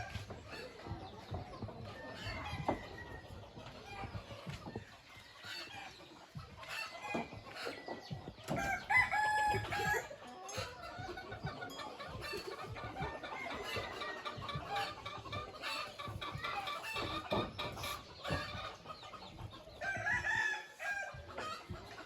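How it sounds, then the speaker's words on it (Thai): Chickens and roosters in a Lao village: repeated crowing from several birds near and far, with steady clucking throughout and a busy outdoor background, moderately loud. "หมู่บ้านนี้เพิ่นเลี้ยงไก่หลาย"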